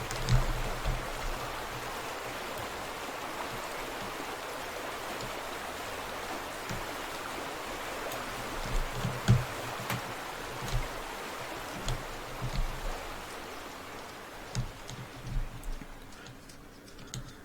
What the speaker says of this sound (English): Waterfall! Oh, waterfall of rocks.